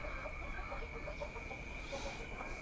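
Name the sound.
KUB chickens clucking on a farm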